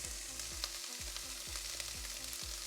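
Carrots sizzle and fry steadily in a hot pan over browned garlic, with scraping stir strokes recurring through the sizzle while Asian noodles are being made; no one talks.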